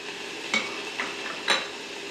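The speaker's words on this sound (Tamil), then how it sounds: "அப்புறமா நம்ம கட் பண்ணி வச்சுருக்கிற தக்காளி இதில் போடுறோம்." Chopped tomatoes sautéing in a pan for Dindigul-style mutton biryani, a faint low sizzle broken by a few soft stirring scrapes, two of them a little louder.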